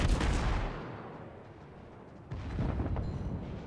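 Heavy naval guns fire from the British cruiser HMS Belfast in World of Warships, a loud booming salvo that rumbles and fades, then a second burst of gunfire rises near the end.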